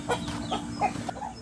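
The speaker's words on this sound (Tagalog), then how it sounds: "Ang mga manok." Farm chickens cluck in short, scattered calls close by over a low steady background hum, with no talking.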